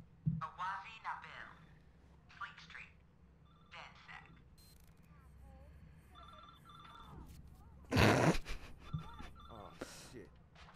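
A payphone with hardware attached rings in the video game Watch Dogs 2, its short electronic rings repeating among game sounds while voices talk over and around it.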